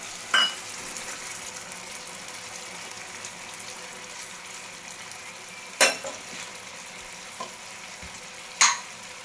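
Pointed gourd dolma frying in a pan gives a soft, steady sizzle. Three or four sharp scrapes and clinks come from the spoon as the gourds are turned.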